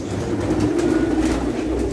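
Racing pigeons in a loft keep up a steady, close, low cooing murmur that runs unbroken throughout, with no speech over it.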